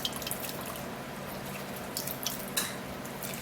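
Orange juice, freshly pressed, drips and trickles through a sieve with scattered small splashes and patters over a steady wet hiss, close by and with no talking.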